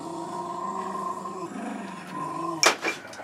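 Jack Russell terriers growl steadily in a low, rumbling chorus, then one or two sharp barks burst out near the end.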